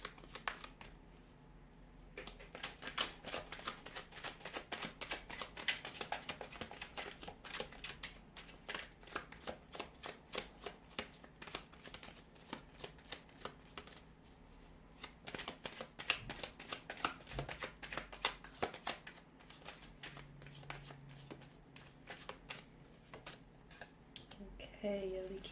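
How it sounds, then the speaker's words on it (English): Tarot cards riffle and slap in a long, continuous shuffle, a rapid crisp patter heard up close with faint talk underneath. "Let's give the cards a shuffle"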